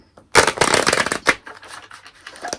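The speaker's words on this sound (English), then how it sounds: "I'm going to give it one last shuffle and then we will sync up." A deck of tarot cards gets a final riffle shuffle, a close, crisp burst of flapping card edges lasting about a second, then a softer second ripple and quiet handling of the deck.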